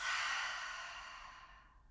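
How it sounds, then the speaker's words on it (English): A single long cleansing exhale through the nose during a morning yoga flow, close and breathy, starting strong and fading away over about two seconds. "Take a big breath in, fill up through your nose. Exhale, release."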